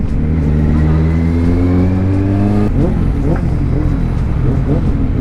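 A motorcycle engine revs hard in town traffic, loud and close, its pitch climbing for a few seconds before dropping into a rough, fluttering throttle burble mixed with street noise.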